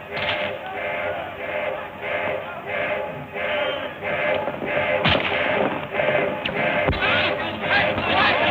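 Two sharp gunshots ring out a couple of seconds apart, cutting through a continuous rhythmic background of other sound in an old Hollywood film.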